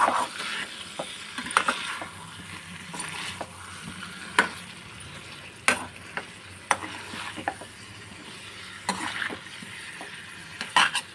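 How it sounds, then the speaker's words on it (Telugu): A spoon stirs cauliflower curry in a sizzling pan, with close scraping strokes and clinks against the metal coming in an uneven rhythm over a steady frying hiss, without talking. "వేసుకున్న తర్వాత ఇలా అంతా కలిసేలాగా కలుపుకోవాలండి"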